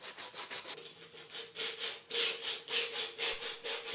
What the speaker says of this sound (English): I did some hand sanding at 150 and 220 grit to smooth out the grooves